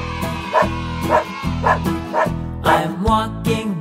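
In a children's song, a dog barks in a cheerful repeating pattern, several short woofs in a regular rhythm over the tune's backing music, loud and close.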